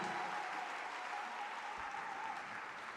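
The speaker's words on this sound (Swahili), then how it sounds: "Hayo makofi hayatoshi, piga vigelegele vya shangwe." A church congregation applauding during a sermon, dense sustained clapping from a large crowd filling the room, steady and even with a faint voice underneath.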